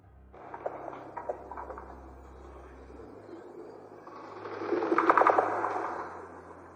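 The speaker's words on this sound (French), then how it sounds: "Ça c'était un bruit de tremblement de terre" Earthquake effect from the video game Fortnite: a low rumbling drone with scattered crackles and debris-like clatter, swelling into a louder, denser rumble near the end before fading.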